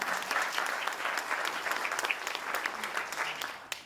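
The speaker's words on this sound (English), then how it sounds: "So let's give our moderator a round of applause." Sustained applause from a chamber of commerce breakfast audience for the event moderator, dense even clapping throughout that fades slightly toward the end, filling a banquet room.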